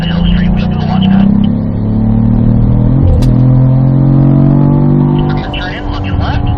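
A car accelerates uphill along a straight on a racetrack, its engine droning loud and steady with a rising pitch, while an instructor talks over the noise throughout.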